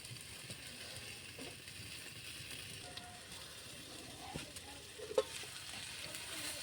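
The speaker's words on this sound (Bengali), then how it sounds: "সুন্দর করে নাড়াচাড়া করি। মরিচগুলা সুন্দর হয়ে লাল হয়ে গেছে" Onions and chillies frying in a pan are stirred, giving a faint, steady crackle with occasional light scrapes and one sharper click, quiet and without talk.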